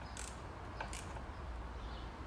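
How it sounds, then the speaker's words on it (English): A small ratchet tightens a throttle body fitting on a Chrysler 300C 5.7 Hemi V8, a few quick faint clicking bursts close by over low background noise. "instead of using a screwdriver, I'm just using a little ratchet, and we'll just tighten this up properly this time"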